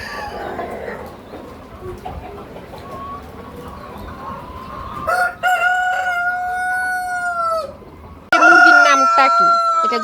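Rooster crowing and chickens clucking on a poultry farm, loud and close; a long crow rings out mid-clip and another starts near the end, over a busy background of clucking birds.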